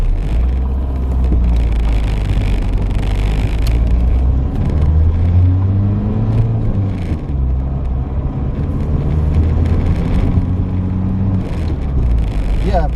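Citroen CX diesel with a laggy turbo accelerating on the road, a loud, steady low engine drone and road rumble heard from inside the car, with people talking over it.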